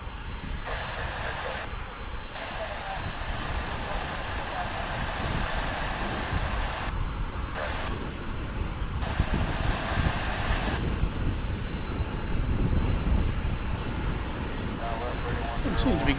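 An American Airlines airliner taxis slowly at Dallas/Fort Worth International Airport with a steady jet engine roar and whine at moderate distance, under background noise that switches on and off in bursts.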